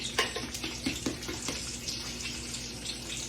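Bacon sizzling in a frying pan as it finishes cooking, a close, continuous hiss dotted with small pops and crackles.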